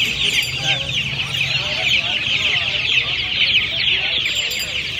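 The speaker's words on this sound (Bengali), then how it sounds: "আক্তার কাছে এই মুরগিগুলোই আছে" Chickens for sale at the Uluberia poultry market clucking steadily and close by in a dense chorus, with faint talk in the background.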